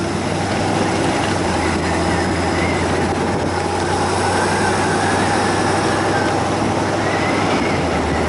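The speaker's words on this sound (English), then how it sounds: "Now the wind noise is going to pick up" A steady, loud rushing roar of wind buffets an open 1929 Ford Model A Highboy Roadster, with a low engine rumble underneath, constant throughout with no talking.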